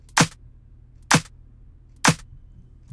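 Crisp, bright claps repeat about once a second, each a short sharp snap with a brief tail, over a faint low hum.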